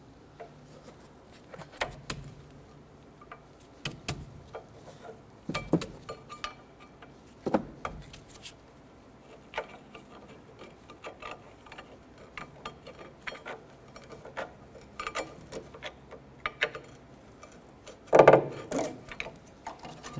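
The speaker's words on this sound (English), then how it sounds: "Go ahead and gently slide those out of our slide brackets or shims." Metal brake pads on a Chevy Impala scraping and clinking as they are slid out of the caliper bracket shims, a series of sharp close clicks and light rattles at irregular intervals with quiet gaps between.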